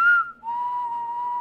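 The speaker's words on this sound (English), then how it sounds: "Wait, I remember that terrible whistling." A single person whistles steady sustained notes, a short higher tone sliding into one long held pitch, close and clear with no talking.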